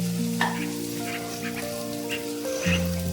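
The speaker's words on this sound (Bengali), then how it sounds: "আলু আর পেঁয়াজ ভালোভাবে ভেজে নিতে হবে যত সময় একটু নরম না হয়ে যায়।" Potatoes and onions fry in a pan for a Bengali cabbage and prawn dish, giving a steady close sizzle with small crackles over a soft background of sustained musical tones.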